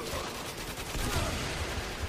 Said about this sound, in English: I'm doing all explosions.